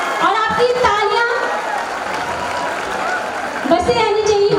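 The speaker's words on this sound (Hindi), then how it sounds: "जोरदार तालियों से स्वागत करते रहेंगे" An audience at a school annual function applauds, a broad wash of clapping swelling in the middle while an announcer's amplified voice talks over it at the start and end.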